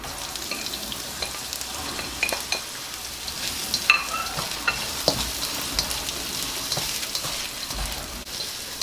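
Onion sizzles and fries in a hot pan for pancit canton, a dense, crackling hiss that holds steady, broken by occasional scraping stirs and clinks of a utensil.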